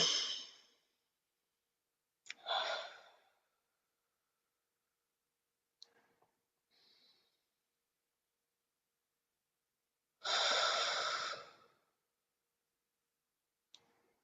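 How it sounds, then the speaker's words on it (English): Slow, guided deep breathing during a sound healing session: a long airy exhale, then another breath, and a final long exhale, separated by quiet pauses and a few faint clicks. "Let's breathe."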